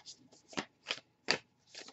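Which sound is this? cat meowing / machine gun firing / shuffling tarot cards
shuffling tarot cards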